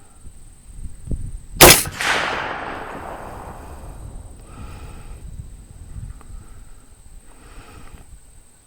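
A single sharp, loud rifle shot from a 400 Legend round, fired from an AR or bolt action, cracks out and then booms away in a long outdoor echo before fading into quiet outdoor ambience.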